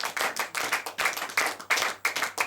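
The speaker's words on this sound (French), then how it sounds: "Let's clap for the Lord." A church congregation claps in rhythm, loud close hand claps in quick repeated bursts filling the space, with no voices over them.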